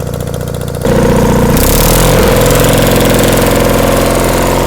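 An old engine-driven bug welder throttles up from a lower idle into a loud, steady, close engine roar that holds constant, with no talking.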